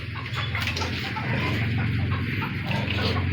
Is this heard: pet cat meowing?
no